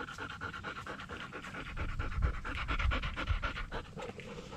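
A farm dog pants rapidly and rhythmically at close range, quick regular breaths repeating steadily throughout with no talking.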